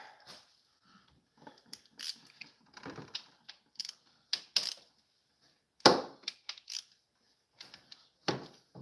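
A ratchet torques bolts during a Ford Focus ST EcoBoost timing chain replacement, sharp metallic clicks and ratcheting bursts arriving in irregular clusters with quiet gaps, close and crisp.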